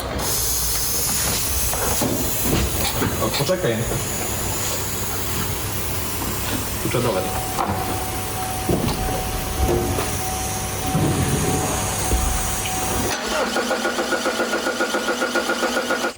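An Opel Insignia 2.0 CDTI diesel engine cranks and starts, then settles into a rough, clattering idle with hissing during injector cleaning, while a couple of short remarks are spoken.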